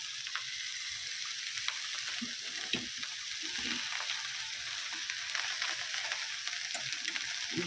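Soaked five-lentil mix tipped into a hot cooking pot, giving a faint, steady sizzle and bubbling with small scattered stirring taps and splashes, with no voices.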